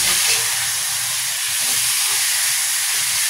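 Beef hitting a hot pan of sautéed onion and garlic for sinigang na baka gives a steady, close hiss and sizzle that runs unbroken throughout.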